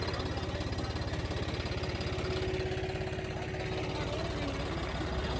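A tractor engine runs nearby with a steady low, pulsing chug throughout, roughly even in loudness and heard on its own.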